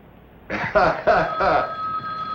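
An old-style telephone bell rings in four loud, evenly spaced bursts inside an office, each ring bright and rattling, with faint room tone between and after.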